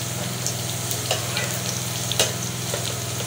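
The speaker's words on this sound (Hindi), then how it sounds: "जरा प्याज हो जाए तो मैं इसको तड़का लगाती हूँ।" Onions fry in hot oil in a pan for a chana dal tadka, giving a steady close sizzle with occasional stirring scrapes and brief crackling bursts.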